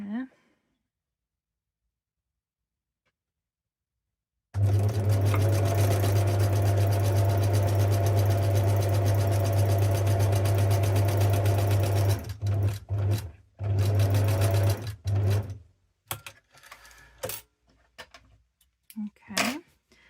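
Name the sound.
sewing machine stitching fabric envelope with a back stitch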